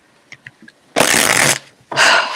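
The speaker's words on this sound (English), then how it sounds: "When I shuffle, it's so loud." Playing cards shuffled loudly at close range in two dense riffle bursts, each about half a second, preceded by a few soft taps and card handling sounds, with no talk.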